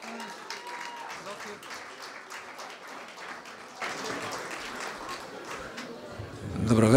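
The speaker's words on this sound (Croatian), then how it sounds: "Molim vas jedan veliki aplauz za Zorana Škugora" Crowd applause fills a music awards ceremony hall for presenter Zoran Škugor at the Mega Muzika Awards 2015, steady dense clapping throughout that swells louder near the end.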